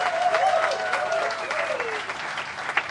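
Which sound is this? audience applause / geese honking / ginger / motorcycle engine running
audience applause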